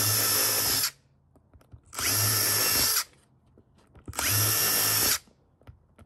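A power drill boring 1/16 and 1/8 inch pinholes, likely into a base for a multi-wire character armature, whirs in three steady bursts of about a second each, separated by short quiet pauses.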